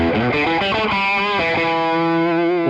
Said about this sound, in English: It might make your guitar sound heavier and more aggressive